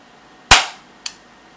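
A UTG full metal 1911 airsoft pistol cycles with one sharp, loud metallic snap followed half a second later by a smaller, quicker click, close and alone.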